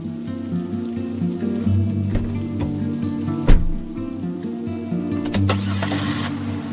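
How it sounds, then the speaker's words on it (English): A car engine cranks and fails to start during rain on a rainy evening, with a low steady rumble and a sharp thump midway. Rain patters faintly underneath and there is no talk. "when she tried to start it up, the engine suddenly failed"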